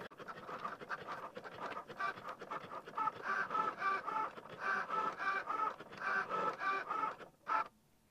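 A Cricut Joy cutting machine runs a foil transfer tool over a design. It makes a close, steady mechanical whir with rhythmic scratching and buzzing movements, then stops abruptly near the end.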